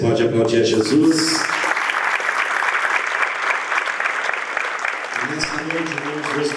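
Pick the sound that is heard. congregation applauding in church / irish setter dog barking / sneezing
congregation applauding in church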